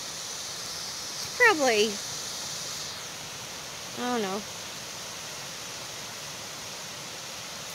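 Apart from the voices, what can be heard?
tall waterfall at campground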